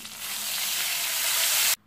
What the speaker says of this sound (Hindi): और अब इसमें थोड़ा सा हम पानी डाल देंगे।